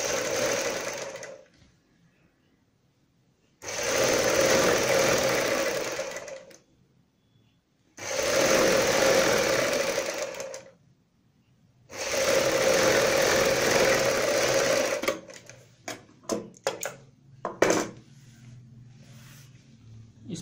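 A sewing machine stitching a kurti sleeve runs in four separate sustained bursts of rapid whirring with short pauses between, then gives a few quick, short taps at the end.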